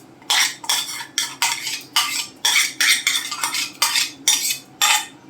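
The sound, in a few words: ladle stirring rice kheer in a steel pot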